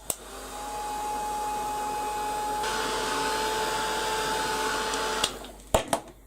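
A hand-held dryer blows steadily over freshly painted primer on a mixed-media piece, a continuous whir with a faint high whine running about five seconds and swelling slightly midway before cutting off, followed by a few sharp handling knocks.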